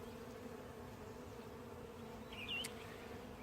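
Honeybees buzz steadily around an open hive during an inspection after installing a package, a low droning hum close by with one brief louder pass near the end, and no voices.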